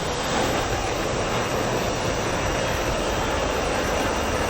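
Steady, loud broadband engine roar of a fixed-wing airplane in a flight simulator game, droning continuously without breaks for the whole stretch.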